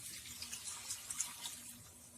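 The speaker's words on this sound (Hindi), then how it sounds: "आखिर में हम इसमें 1 कप पानी डाल देते हैं।" Water poured into a pot of mutton dammi, a steady faint splashing pour with soft bubbling pulses running throughout, no voices.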